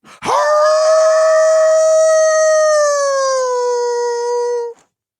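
A voice imitates a wolf in one long, smooth howl, loud and close. It holds steady for several seconds, slowly sinking in pitch before cutting off.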